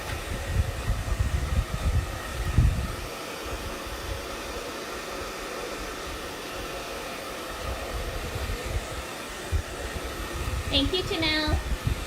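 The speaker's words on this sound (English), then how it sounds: "let me just grab the hair dryer really quick so we can move along and get this dry" A steady whooshing blow of a hair dryer running continuously nearby, with faint handling sounds and a brief high squeak near the end.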